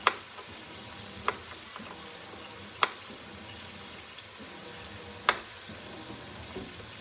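Seafood stew with zucchini sizzles steadily in a pot while a spoon stirs it, with several sharp clinks of utensil against the pot spread over a few seconds.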